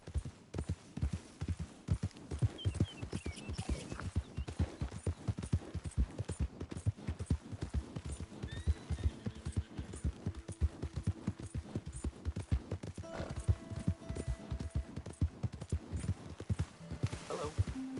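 In Red Dead Redemption 2, rapid, steady clip-clop of horse hooves beats throughout, close and rhythmic, with faint bits of other sound near the end.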